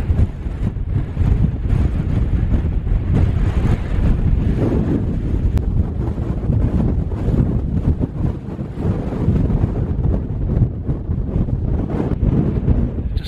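Strong, brutal wind buffets the microphone on a Snowdonia mountainside in the Carneddau, a loud, constant low roar with gusts that rise and fall throughout and no voices.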